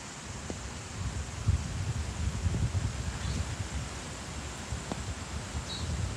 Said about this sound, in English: I'm over here just watching the wind and bullshitting as usual. Yeah, we do have daytime over here. Yeah, it is a pretty good breeze.